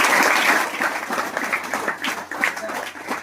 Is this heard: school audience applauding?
yes